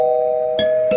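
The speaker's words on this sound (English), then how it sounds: "the front door chimes on the wall in his workshop observatory is activated" A front door chime mounted on the wall of a home workshop observatory rings out close and clear, with a sustained electronic tone and two fresh strikes of the bell in quick succession.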